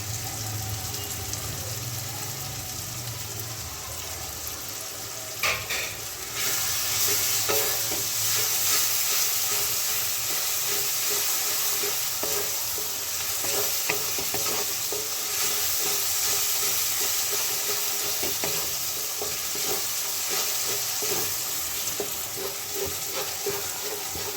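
Spice paste with tomato and Kashmiri chilli powder fried in oil for a Bengali prawn curry, a continuous close sizzle with repeated stirring scrapes that jumps louder after a few seconds and stays steady.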